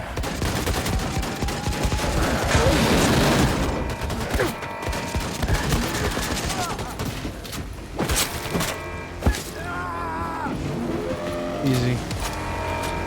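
Gunfire in a video game, a dense burst of shots and rapid fire mixed with engine and tire noise early on, then sparser sharp reports and synth music, with game voices talking over it.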